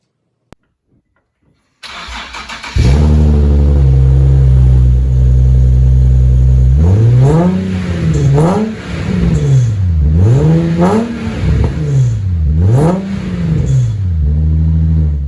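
A Nissan 370Z engine cranks and catches, idles steadily, then revs up and down in several loud, rising-and-falling bursts close by.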